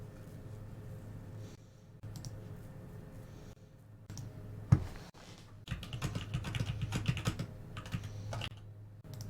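Someone types on a computer keyboard during an online card game session, bursts of soft clicking keystrokes separated by short pauses, with one sharper knock partway through and a dense run of typing toward the end.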